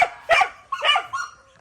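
A dog in a kennel gives three short, close whimpering yelps in quick succession, each fading quickly.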